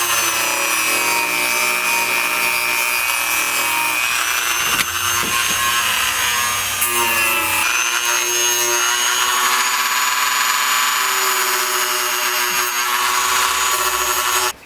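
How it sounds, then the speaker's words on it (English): Steady, continuous hand sanding with coarse 40 grit sandpaper on a repaired Starboard 95cm foil mast, a loud, even scratchy rasp that keeps going with no pauses. "I have 40 grit sandpaper to level it out, even depth. It's making nice big grooves"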